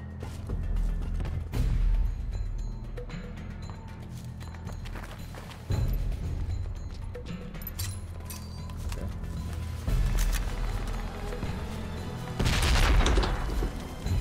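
Gunfire in the video game Project Reality: repeated loud bursts of shots, with mechanical clatter and creaks between them and no voices.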